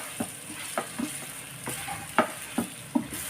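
Mango pickle with chilli powder being stirred and turned in a pan, a series of soft irregular scraping and squelching strokes roughly every half second over a faint background hiss.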